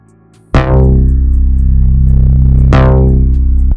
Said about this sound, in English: that is the bass that I use, also from the swing beat pack.